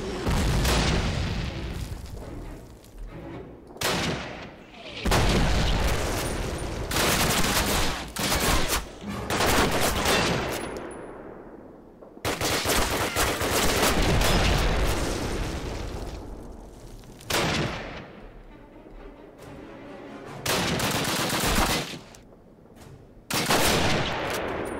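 Call of Duty battle at a railyard with gunfire aimed at a tank, heavy bursts of shots and booming blasts arriving in loud clusters separated by brief lulls.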